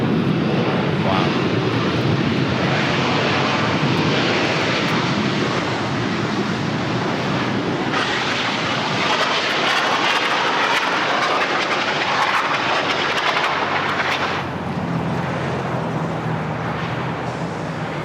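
Airliner jet engines roar loud and close at LAX as a plane rolls down the runway, a continuous broadband rush that swells midway and eases slightly toward the end.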